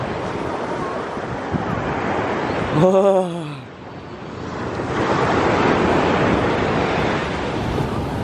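Ocean waves wash onto a beach with steady, loud surf and wind noise throughout, a swelling rush rising near the end, while a voice cries out briefly in the middle.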